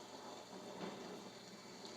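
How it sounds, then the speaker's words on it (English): Steady rain hiss from a HoMedics white noise sound machine's rain and thunder setting, a constant broadband wash with a faint low rumble, even in level throughout with no talk. "So this is like a rain and thunder sound."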